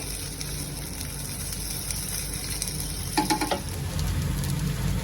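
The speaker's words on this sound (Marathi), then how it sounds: "दोन्ही साईडनी ह्याला चांगलं शॅलो फ्राय करून घेते" Beet cutlets shallow frying in a pan of oil give a steady close sizzle throughout, with a brief burst of clatter and spatter near the middle as pieces are turned, and nobody speaks.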